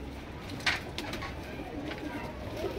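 Soft cooing of a pigeon settling on a perch sounds through steady outdoor ambience, with a brief sharp noise early on and faint voices in the background.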